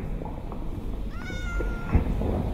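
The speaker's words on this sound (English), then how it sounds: "Shut up, cat." A cat gives one drawn-out, rising-and-falling meow at moderate volume over a steady low background hum, with a soft thump just after.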